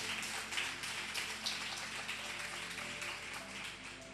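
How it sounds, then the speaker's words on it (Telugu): Church congregation clapping during a sermon, a dense, even wash of many hands that sounds distant and faint, steady throughout with no voices over it. "చప్పట్లు కొడదాం బిగ్గరగా."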